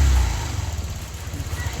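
A Honda Click scooter engine under tuning is heard as a brief burst of revving that settles into a pulsing, throbbing idle close to the microphone.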